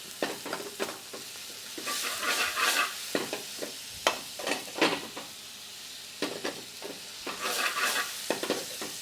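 Red onion stirred and sizzling in a frying pan over a high gas flame, steady crackling frying with repeated scraping stirs close up, no voices.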